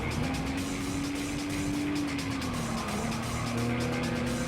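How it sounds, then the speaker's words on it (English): Synthetic exhaust tone of an electric car in Gran Turismo 7, a steady droning hum slowly rising in pitch over continuous road and tire noise. "it has like a fake exhaust sound to actually hear it ramp up over time"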